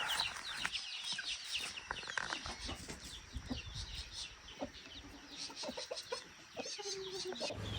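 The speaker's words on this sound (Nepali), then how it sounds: "धेरै कुखुराहरू देख्यौँ र कुखुराहरूको च्याइ सुन्यौँ" Many chickens at a village homestead in Udaypur, Nepal, cluck and squawk in overlapping bursts, some near and some farther off, with other birds chirping faintly in the background.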